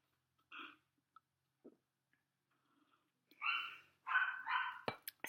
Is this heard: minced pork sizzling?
no